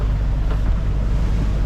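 Strong wind roars over the microphone while sailing on a boat heading back from Bandol to Port Leucate, a loud and steady rumble with no voices.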